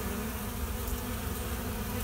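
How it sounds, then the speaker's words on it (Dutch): Honeybees flying at the hive entrance on a mild autumn day around 20 degrees, returning with pollen, make a steady, dense buzzing drone that fills the whole stretch, close and continuous with no talk. "De bijen benutten hun kans."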